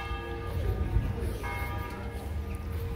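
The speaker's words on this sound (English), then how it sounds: "you can hear the bells are ringing" Church bells ring out at a moderate distance in Santa Marinella, Italy, their tones overlapping and sustained, with street ambience beneath.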